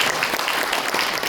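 An audience at a lecture claps loudly and steadily, a dense burst of applause close by.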